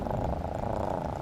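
A cat in an animated short film purrs steadily and softly at close range, a low continuous rumbling pulse with no voices.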